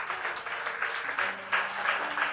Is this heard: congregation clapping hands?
yes